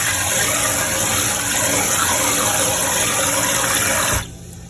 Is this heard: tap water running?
yes